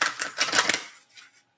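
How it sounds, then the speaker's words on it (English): Tarot cards being shuffled by hand: a quick run of dry, crisp riffling clicks for about a second, then a softer tail fading out, close and fairly quiet with no talking. "Let's do one more shuffle"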